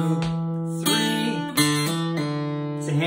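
An acoustic guitar plays a sequence of picked notes with hammer-ons and pull-offs, heard alone and close, with ringing harmonic tones and smooth slurred transitions between pitches.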